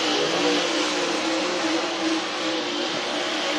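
Race cars run on a speedway track at Whynot Motorsports Park during a race, a steady, distant engine whine and roar that holds throughout with no talk.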